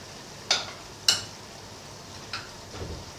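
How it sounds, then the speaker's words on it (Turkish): Spoon or whisk knocking the bowl while blending kefir börek batter, a few quiet, sharp taps spaced apart, then fainter scraping. "Şimdi bütün bunları şunun içinde harmanlayayım güzelce."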